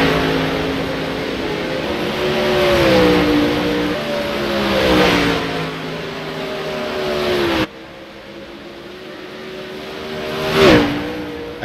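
Race cars accelerate during a broadcast of qualifying runs, loud engines rising and falling in pitch as they rev through gears, followed by a quieter stretch and a sharp pass-by surge.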